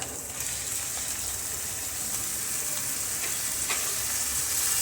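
Onions frying in a pan for a bitter gourd and raw mango curry give a steady, loud, close sizzle with light stirring scrapes, unbroken from start to finish, no voices.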